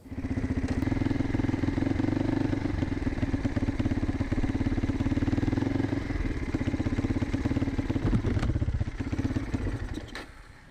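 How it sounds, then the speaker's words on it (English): A Gilera Saturno 350 motorcycle engine runs with a loud, close, uneven thumping beat as it misfires, then fades away and cuts out at the end. "the bike started misfiring and then cut out completely"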